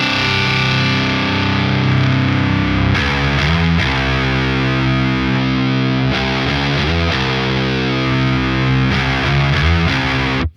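Electric guitar driven through a Boss HM-2w distortion pedal switched to custom mode with more gain and scooped mids, loud sustained saturated chords with heavy low end, changing chords at a steady pace, no talking.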